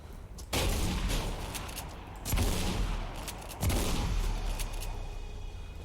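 Shotgun fire in the video game Mirror's Edge: three heavy, booming blasts roughly a second or more apart, each followed by a loud, sustained rumbling wash of noise.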